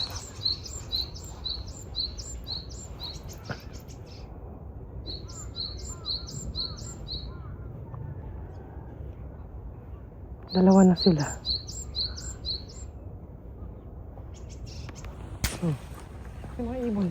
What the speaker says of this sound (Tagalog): Tsaka daming ibon lagi. May mga ibon.